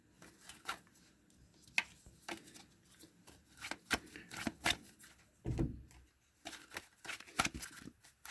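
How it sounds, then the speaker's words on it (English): A deck of tarot cards is shuffled by hand in repeated riffling bursts, crisp papery flicks and soft taps coming in uneven clusters, close and fairly quiet. "I just want to give these a shuffle."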